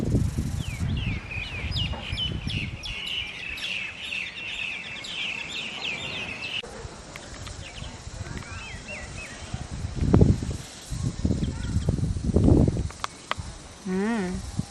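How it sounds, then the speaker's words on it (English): Birds on Bamboo Island beach in the Phi Phi Islands trill and chirp in quick repeated phrases, clear at first and then fainter, with low voices and background noise joining later. "And you can hear the birds singing."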